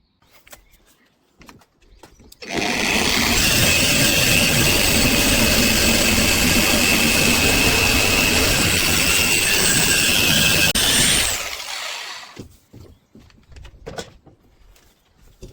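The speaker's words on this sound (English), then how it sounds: "So I'll now get the buffer and we'll try and buff it up" A polishing buffer running on lacquered paint: a loud, steady whining motor hum starts abruptly, holds for about eight seconds, then winds down, with quiet handling noises before and after.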